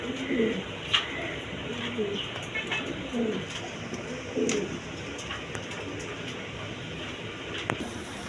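Big-sized Iranian barhuma pigeons, a breeding pair sitting on two eggs, cooing in soft repeated throaty bursts close by over low background noise.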